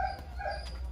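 A dog gives soft whimpers and yips through a continuous low background rumble, close by, with no clear separate barks.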